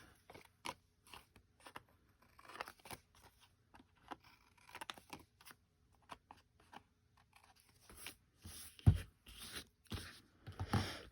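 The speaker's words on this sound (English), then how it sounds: "use my smaller scissors now" Short, crisp snips of small scissors cutting paper, in irregular bursts close by, with no talking.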